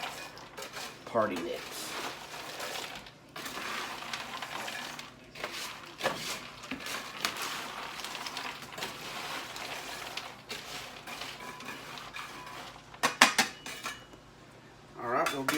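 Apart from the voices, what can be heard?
party mix being stirred in a baking pan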